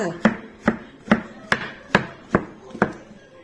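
Knife chopping shiitake mushrooms on a board while preparing Thai rad na, seven crisp evenly spaced thumps close up, with no talking.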